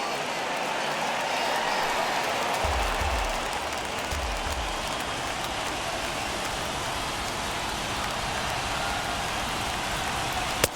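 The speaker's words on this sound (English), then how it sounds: "Crowd gets up for the 3-2." A baseball stadium crowd in a video game simulating a Cubs versus Angels World Series game rises into a steady, loud, dense cheering roar on a full count that holds throughout.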